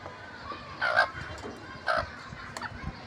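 Backyard chickens, young birds bought at a Gulistan market in Dhaka, give a few short clucking calls at about one and two seconds over faint ambient noise, with no talking.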